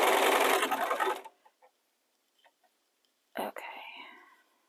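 A sewing machine runs a fast, loud burst of stitching while taking in a button-up shirt, then cuts off abruptly; a few faint taps follow in near silence before a brief voice and rustling.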